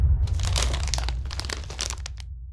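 A Doritos chip bag crinkles and crunches close up in a burst of irregular, crackly rustles that gradually thin out over a couple of seconds.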